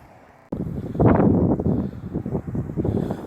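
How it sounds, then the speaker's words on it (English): Gusty wind buffets the microphone with low, rumbling bursts that swell and fade outdoors, with no one talking. "it's a little windy out here today"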